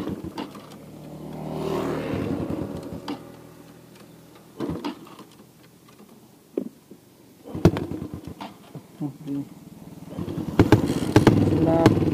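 A Yamaha R15 motorcycle broken down on the road runs with its engine idling and rising into revs, with ticking mechanical clicks and sharp knocks throughout, loud and close.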